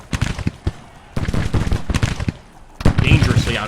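Musket volleys from Civil War infantry in the strategy game Grand Tactician: The Civil War, heard as loud repeated bursts of crackling gunfire in several waves, with a heavier volley near the end and a voice speaking between shots.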